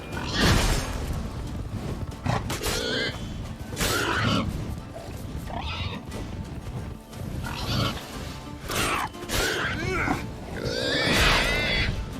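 Grunting and squealing feral pigs in the video game The Witcher 3, a rapid run of loud, close bursts with game sound effects mixed in.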